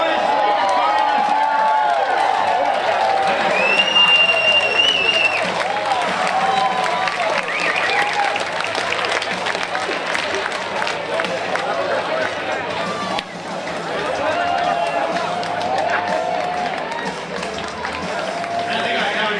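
A crowd at a baseball game applauds and cheers with a loud, sustained roar and whistles, while voices carry through the noise.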